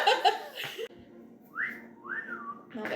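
A person whistles with the lips, two rising-and-falling tones after a burst of laughter and chatter from a group playing a tabletop role-playing game, fairly close and clear between the voices.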